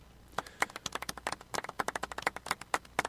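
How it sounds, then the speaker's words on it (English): A small, sparse golf clap from a few people, irregular crisp individual claps close by, quiet and unhurried over a few seconds. "A golf clap?"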